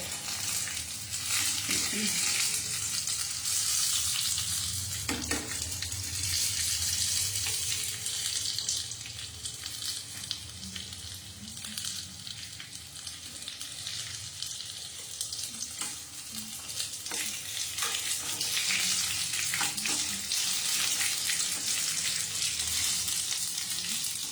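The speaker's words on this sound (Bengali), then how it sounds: "ঘুরিয়ে ঘুরিয়ে ভাজতে হবে" Paneer pakoras deep frying in oil, a dense continuous hiss and bubbling held close and fairly loud throughout, with faint clinks as pieces are turned.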